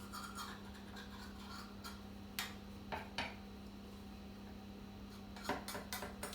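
A butter knife scrapes around the outer edge of a flan dish in a faint run of light scratches and a few sharp metallic clicks against the rim, with a quiet background hum.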